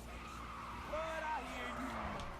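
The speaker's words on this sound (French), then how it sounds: "j'ai fait un drift en first person comme un fucking pro" A car drifts in GTA V, its tires skidding and squealing in wavering high tones over a low engine drone, with voices talking over it.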